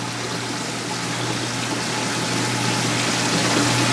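Water flows steadily through the tank of a gold mining magnetic separator, a loud continuous rushing wash with a low machine hum running underneath and no voices.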